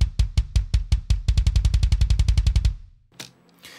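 A double kick drum pattern from the KRIMH Drums sample library with auto double kick on: a rapid, tight stream of punchy kicks that quickens midway into a dense roll, then stops abruptly into a faint decay.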